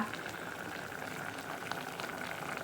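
A pot of Thai curry with pumpkin, mushrooms and pork belly boils on the stove, a steady close bubbling and simmering that continues unbroken, with no talk over it.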